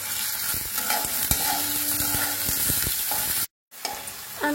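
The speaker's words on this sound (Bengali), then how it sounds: "এখন আমি এটাকে ভালো মতো ভেজে নেব।" Chopped onion and green chillies fry in soybean oil, a continuous close sizzle broken by the knocks and scrapes of stirring, with a brief silent gap near the end.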